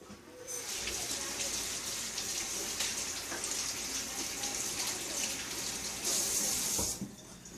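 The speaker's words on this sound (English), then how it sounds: "Let me wash my hands again." Tap water runs steadily into a kitchen sink for hand washing, a loud close hiss that continues throughout and gushes harder near the end before cutting off.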